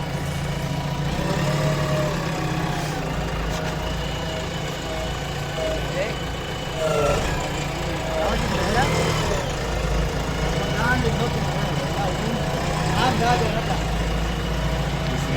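A JCB excavator's diesel engine idles steadily with a low rumble while being parked, the drone continuous throughout with voices talking nearby.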